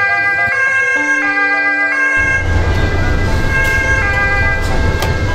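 An ambulance on an urgent call sounds its two-tone siren, loud and near, alternating pitches over a growing roar of engine and road noise as the vehicle drives on.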